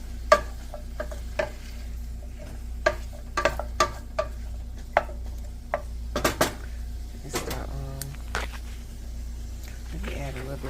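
A Beyond Steak plant-based meal cooks in an oiled pan, with a soft sizzle under repeated clinks and scrapes of a utensil against the pan over a low steady hum.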